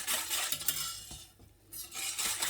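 Sugar is stirred into a green egg jelly mixture in a pot. A utensil scrapes and swirls continuously, close up, with a few clinks against the pot and a brief lull midway, and no talking.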